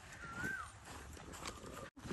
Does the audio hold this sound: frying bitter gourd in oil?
no